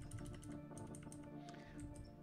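A computer keyboard is typed on and shifted about on a squeaky platform, giving soft, irregular key clicks and taps at close range with quiet background.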